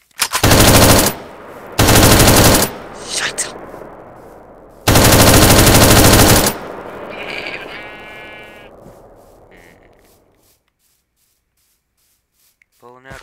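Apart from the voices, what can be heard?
machine gun fire in a video game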